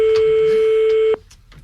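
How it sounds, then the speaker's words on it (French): A steady telephone ring tone plays on a call, loud and continuous for just over a second, then stops abruptly, leaving faint background noise. "il lui faut un certain nombre de sonneries avant qu'il comprenne que c'est le téléphone qui sonne."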